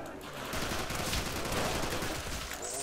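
Sustained automatic gunfire spraying a horde of zombies in Call of Duty Nazi Zombies on a custom map, a dense, continuous rattling volley at steady loudness for nearly three seconds.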